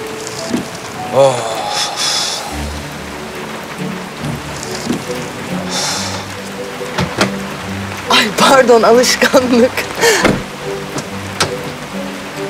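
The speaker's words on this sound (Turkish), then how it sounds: "Ay nasıl yağmur birden bastırdı." Sudden heavy rain with thunder, a steady wash of downpour under a busy indoor scene with voices talking, occasional knocks and thumps, and low rumbles.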